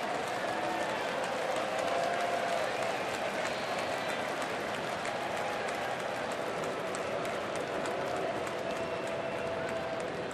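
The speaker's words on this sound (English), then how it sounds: "See if he gets a nice little round of applause" A baseball crowd in Milwaukee applauds and cheers steadily for a batter stepping in, a broad wash of clapping and crowd noise holding at an even level throughout.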